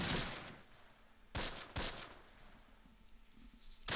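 Gunfire rattles in Close Combat Last Stand Arnhem, a WWII strategy game, with a few sharp bursts of shots over a quiet background, fairly faint and at mid-distance.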